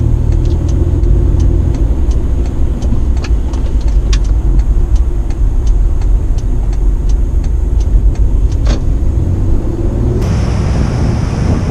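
A Toyota Prado fitted with a Lokka auto locker makes a tight U-turn at light throttle on the road, heard as a steady low engine and road rumble with wind noise and a regular faint ticking over it, no speech.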